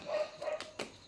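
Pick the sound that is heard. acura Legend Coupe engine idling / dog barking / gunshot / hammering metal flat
dog barking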